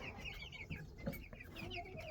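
Chickens cluck in a backyard pen alongside older hens and a rooster, producing a busy, continuous layer of overlapping soft clucks and chirps at moderate distance, with no voices.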